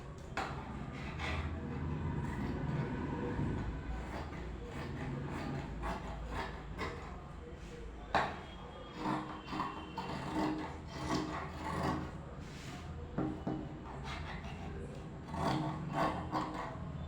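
Scissors cut through blouse fabric in a steady, close run of rasping snips and rustles, continuing without speech for a long stretch.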